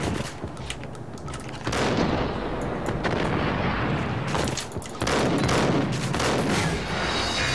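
Dense, rapid gunfire and booming blasts ring out in the Max Payne video game, loud and continuous with sharp bursts and brief lulls over about seven seconds.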